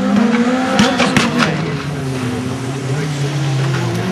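A Renault Sport maxi turbo tarmac rally car drives past loud and close, its engine note sliding in pitch as it accelerates and shifts, with a brief tyre squeal and crackling bursts early on.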